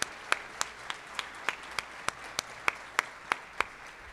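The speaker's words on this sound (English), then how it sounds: "could we please give a big round of applause to our staff who worked so hard to pull this all together?" Applause at a pioneer induction dinner, heard as sparse, evenly spaced hand claps in a steady rhythm, fairly quiet and without talk.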